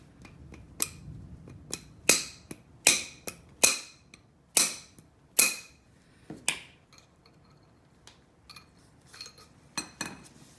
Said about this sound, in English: That little end knuckle, it bangs off with a rubber mallet just like this side did